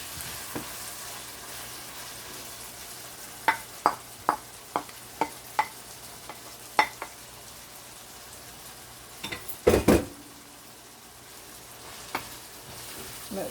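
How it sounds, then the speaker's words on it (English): Saltfish sautés in a small pot, giving a low continuous sizzle under a quick run of utensil taps and scrapes, then a louder clatter of stirring near the end, close-up and without voices. "let the saltfish just saute with all that stuff for a few minutes"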